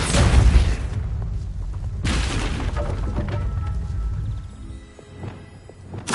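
A Depulso spell cast in Hogwarts Legacy, heard as two loud, close, broadband blasts a couple of seconds apart, each followed by a rumbling tail and fading debris.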